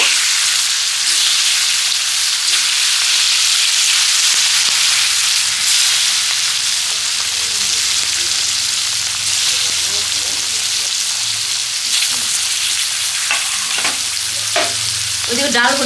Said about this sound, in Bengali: এখন আলু দিয়ে দিচ্ছি, একটা একটা করে ভেজে নেব।